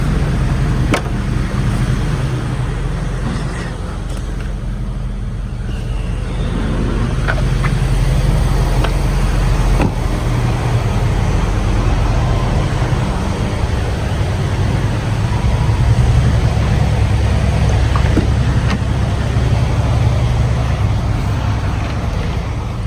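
Steady low road rumble from inside a moving rental car on a drive in Hawaii, the engine and tire drone holding constant and loud with no talking.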